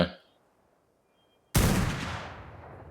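A rocket launcher fires in the mobile video game Ark, a single loud broadband blast after a quiet gap that decays over about a second.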